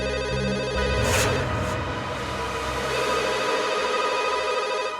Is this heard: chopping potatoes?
no